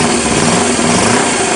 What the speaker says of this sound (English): But the valve noise and everything is unchanged again. Just runs like the standard one.